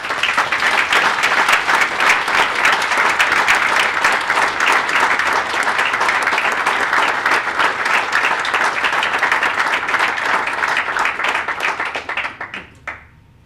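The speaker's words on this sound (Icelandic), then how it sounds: "gefa þessu góða fólki þakki með því að klappa ærlega" Sustained, dense applause from a large conference audience, steady and loud throughout, tapering off sharply at the end.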